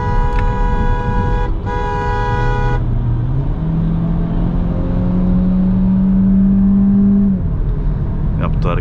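A 180 HP Peugeot 3008 SUV accelerates hard on the road, its engine note rising steadily in pitch, loud and close from inside the cabin, with a brief horn-like tone at the start.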